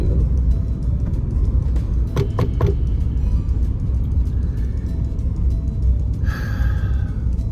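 A steady, loud low rumble of a car moving along neighbourhood streets from inside the cabin, with faint clicks and a brief squeak or whine late on, and no talking.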